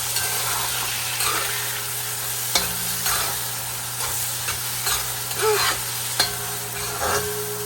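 Onion, garlic and peppers frying in a pot for Divali curry, a loud, steady close-up sizzle with a few sharp utensil taps and stirring scrapes, no voices.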